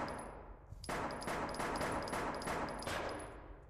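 Rapid automatic gunfire in a body cam style shooter, a quick run of sharp, evenly spaced shots after a short quiet lead-in, fairly faint overall with no talk.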